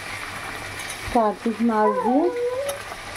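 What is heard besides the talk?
okra frying in a pan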